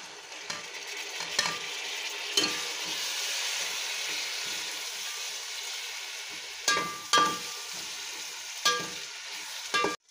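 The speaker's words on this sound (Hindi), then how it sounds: "गोश्त को जो है अच्छी तरह से भूनेंगे" Meat fries in a pot for an arvi gosht handi, giving off a steady loud sizzle. A spoon stirs it and clanks against the pot several times, with the knocks scattered through the sizzle and no talking.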